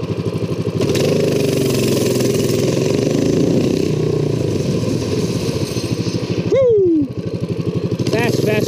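A mini bike's small engine runs steadily and loudly close by, then revs up and pulls away, with people talking over it.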